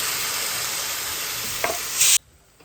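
Pieces of cooked broad bean sizzling loudly in a pan as they are stirred, a steady close hiss of frying with a brief scrape, cutting off abruptly to near silence.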